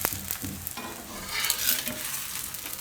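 A ghee-brushed paratha made from dariya dal roasts on a flat griddle, giving a soft crackling sizzle with scraping and stirring noises near the listener, no talk over it.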